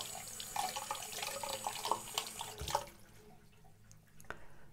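Tap water runs and splashes into a sink while a kaolin clay face mask is rinsed off, a steady close wash of flowing water with a few drips and clinks, thinning out toward the end.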